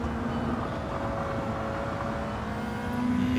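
Steady video game engine drone of a Nissan GR2 race car at Spa, with a sustained high-pitched squeal of tyres running through it, constant and fairly loud, no voices.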